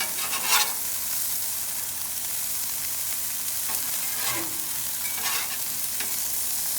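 Hamburger buns toast in bacon grease on a Blackstone griddle, a close, steady sizzle with occasional spatula scrapes and no talk.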